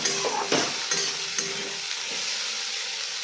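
A spoon scrapes and stirs chira pulao, flattened rice cooked with ghee, in a hot pan, with steady sizzling and a few sharp clinks against the metal, close and continuous.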